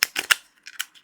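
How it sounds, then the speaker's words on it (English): A tarot deck of good-quality cardstock from Baroque Publishing is shuffled by hand, giving a quick run of sharp, close riffling snaps and flicks in two short bursts with no talking. "Okay, let's give this a shuffle."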